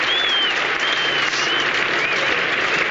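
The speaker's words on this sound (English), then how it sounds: "you don't often see a 100 partnership applauded in quite such a manner" A cricket crowd applauding a 100 partnership, dense sustained clapping with scattered whistles, steady and fairly loud throughout, with no voices standing out.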